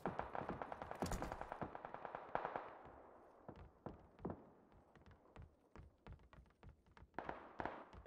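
Gunfire in a PUBG match, a fast cluster of rapid shots at the start followed by scattered single cracks, all fairly distant and moderately quiet, with no talking.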